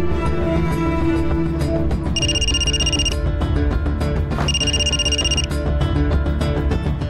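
A telephone rings in two short, bright electronic bursts while a call is placed, set over a steady music bed in a Marathi TV serial scene.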